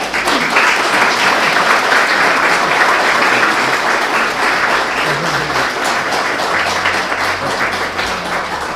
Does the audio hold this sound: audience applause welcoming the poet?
yes